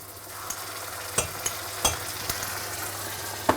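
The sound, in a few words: peri peri prawn masala sizzling in a pan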